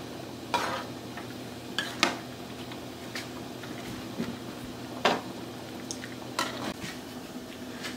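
Spaghetti stirred in a cooking pot for a fish sauce meal, with a handful of sharp metallic scrapes and clinks against the pot spread across a steady background hum, no talking.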